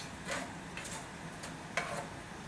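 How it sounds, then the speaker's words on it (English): Beef sizzling quietly in a hot pan, a soft steady hiss with a few light scrapes from stirring. "So you're stirring, and it's frying."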